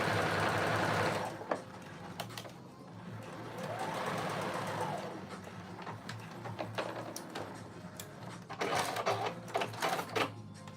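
Sewing machine stitching back pieces of a garment together, a fast rattling whir in bursts that stop and start, with quieter handling sounds and a few sharp clicks between runs.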